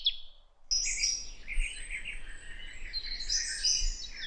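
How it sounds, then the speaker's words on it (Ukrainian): Eurasian jays, bright noisy birds, call in a forest during the day, giving harsh chattering cries over a steady bed of high bird song after a brief pause at the start, moderately near and continuous. "посеред дня іноді прилітали сойки, яскраві гомінки птахи"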